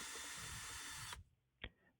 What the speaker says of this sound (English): Unscrew these 2 bolts with a socket wrench or with some power tools.